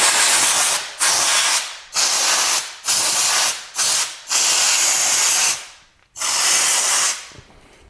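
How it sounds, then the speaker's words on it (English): Compressed air blasting out the hook area of an embroidery machine in about seven loud, close hissing bursts, each lasting roughly half a second to a second and a half, separated by brief silent gaps. "You should be blowing out this area of the machine with compressed air."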